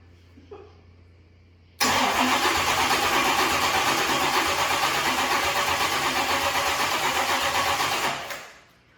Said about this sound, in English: So I'm just gonna crank it and make sure we got oil.